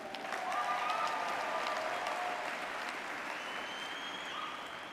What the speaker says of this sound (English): Give yourselves a big round of applause for being here this weekend